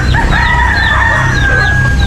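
A hen that lays brown eggs clucks and crows loudly and up close on a rural farm, with repeated calls over steady low background noise.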